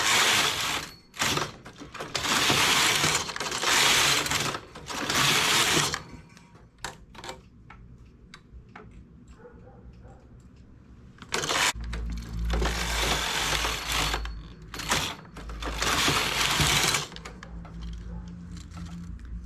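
A jacquard knitting machine carriage sliding back and forth across the needle bed, giving repeated loud rasping, clattering passes with clicks and short pauses between runs, recorded close up.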